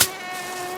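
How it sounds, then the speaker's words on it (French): Mosquitoes buzzing around in a thin, steady high-pitched whine, close and continuous for under a second after a short soft onset. "tous ces moustiques qui lui tournaient autour"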